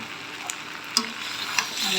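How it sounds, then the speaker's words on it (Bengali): Goat meat fries in oil in a wok with a constant close sizzle, broken by a few sharp spatula scrapes as it is stirred. "এখন এই যে কড়াই থেকে তেল ছাড়তেছে দেখে হালকা পরিমাণে একটু তেল দিয়ে দিলাম"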